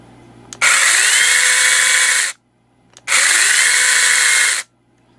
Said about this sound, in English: I'm going to just run it here just so you see what it sounds like.